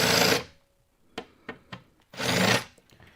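A drill cutting a shallow countersink into aluminium angle, two short bursts of whirring grind separated by a few sharp taps and knocks, close and alone.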